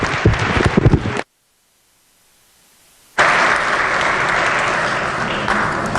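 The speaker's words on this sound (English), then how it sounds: "Please give them a round of applause" Loud, close applause fills a legislature chamber, breaking off into a two-second gap of near silence before the clapping resumes strong and steady to the end.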